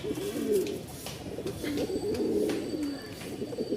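Pigeons in a loft in Mirpur-1, Dhaka, cooing steadily with overlapping low, throaty calls throughout, near and continuous, with no talk.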